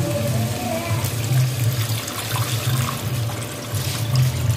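Water pours in a steady, continuous stream into a pan of cooking potato curry, close up and with no speech.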